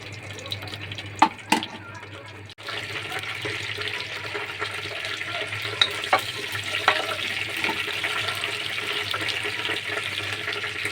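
Whole garam masala (cardamom, cinnamon pieces and bay leaves) fries in soybean and mustard oil for vegetable khichuri, a few sharp clatters followed by a sustained bubbling sizzle.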